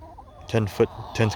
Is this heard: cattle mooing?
no